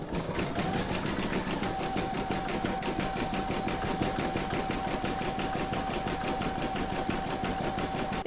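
Embroidery machine stitching the bottom section of an in-the-hoop mandala placemat, a steady fast mechanical needle chatter with a constant whine, close and continuous with no talk.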